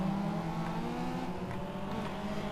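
A car engine in Need for Speed Underground 2, said to choke and struggle at gear changes, revs loudly and continuously, its droning pitch wavering slightly with no break.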